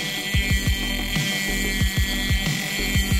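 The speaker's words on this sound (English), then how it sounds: "To open this part, I'll use a Dremel." Dremel rotary tool cutting into a 1988 Teledyne ceramic hybrid circuit module, with repeated short grinding bursts in a quick uneven rhythm, close and fairly loud.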